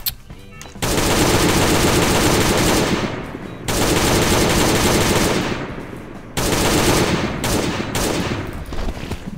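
Video game Last Day on Earth: AK-47 fire in three sustained, loud, rapid automatic bursts, each lasting about two to three seconds with short gaps between, and no speech.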